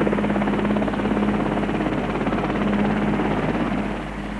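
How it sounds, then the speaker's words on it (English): A helicopter hovers about 200 feet above a chapel while lifting a church spire by slings, its rotor producing a loud, steady, throbbing drone that fills the whole stretch and fades slightly at the end. "The helicopter is now 200 feet up over the chapel."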